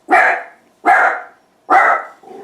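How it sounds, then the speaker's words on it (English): A dog barks three times in an even rhythm, each bark loud, close and sharp, with a fourth starting at the end and no talking. "I just quieted my dog down a second."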